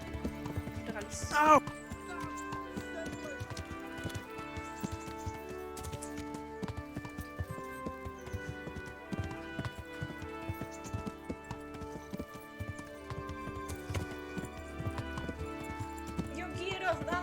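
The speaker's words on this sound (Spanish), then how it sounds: "Vamos a disfrutar del paseo a caballo." A horse's hooves clip-clop in a steady walking rhythm during a ride in Kingdom Come: Deliverance, with game music layered over them.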